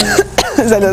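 A person coughs from chile de árbol flakes added in a kitchen studio, several short harsh coughs within a second, close and loud, with a brief spoken word among them.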